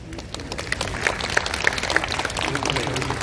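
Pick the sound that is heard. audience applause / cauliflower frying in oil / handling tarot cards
audience applause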